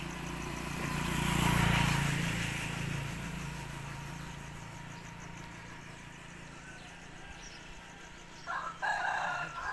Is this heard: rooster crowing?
yes